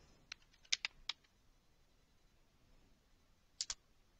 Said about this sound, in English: Just type.